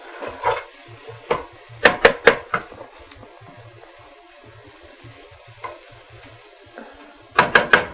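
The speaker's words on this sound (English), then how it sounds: "we're just going to cook that for a minute, let the spices kind of blossom, sort of" Spices cooking in olive oil for a Moroccan chickpea stew give a faint low sizzle under sharp, scattered clacks of a utensil stirring against the pan, close and intermittent.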